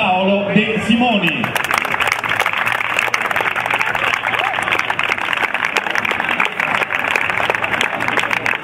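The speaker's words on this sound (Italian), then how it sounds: "E allora un grande applauso per Paolo De Simoni." Audience applause at a futsal team presentation for Fondi Calcio a 5, following a brief spoken announcement at the start, then steady, dense clapping from a crowd continuing loudly to the end.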